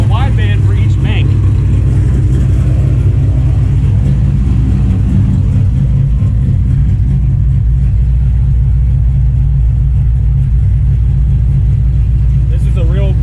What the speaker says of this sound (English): This is a real pursuit car,